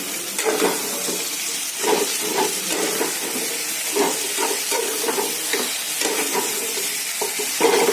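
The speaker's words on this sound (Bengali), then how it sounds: "খুব ভালো করে কষানো হয়ে গেছে" Liver sautéed with spices in a pan sizzles loudly and steadily, with repeated close stirring and scraping strokes throughout and no voices.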